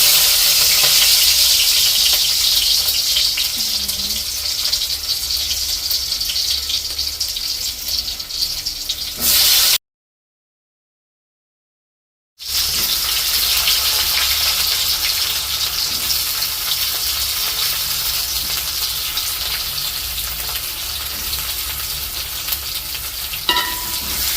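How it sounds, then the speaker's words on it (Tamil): Garlic sizzles in hot oil as the base for a prawn curry in a home kitchen, a loud, steady crackling hiss that runs on with a brief cut of silence midway. "அவங்க எண்ணெய் நல்லா கொதிச்சுட்டுது முதலாவதாக நாங்கள் உள்ளியை தான் போடுறோம்"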